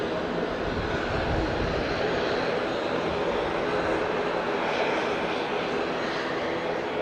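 An airliner arriving at Auckland International Airport makes a steady, broad engine roar that holds throughout at moderate distance, with no talk.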